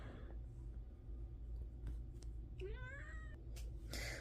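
A house cat gives a single clear, rising meow indoors near a desk, heard faintly over a steady low hum with a few small clicks around it.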